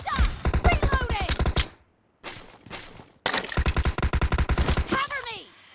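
Rapid bursts of video game gunfire rattle in dense volleys with short pauses between them, loud and close, while players call out over the shooting.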